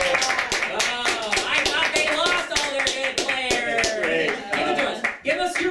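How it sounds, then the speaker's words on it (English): A live theater audience claps and cheers for a guest, sustained dense applause with rapid overlapping hand claps and shouting voices throughout, loud and close in the room. "Everybody, please go crazy and clap your hands for our friend GIDEON HAMBRIGHT"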